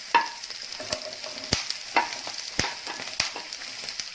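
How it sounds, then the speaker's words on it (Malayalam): Capsicum, green chili and spring onion sauté in a hot pan for a crispy chilli cauliflower dish, a steady sizzle broken by sharp stirring knocks at regular intervals, close up. "പച്ചമുളക്, സ്പ്രിംഗ് ഓണിയൻ, ഇതെല്ലാം കൂടി ചെറുതായിട്ട് വഴറ്റിയിട്ട്"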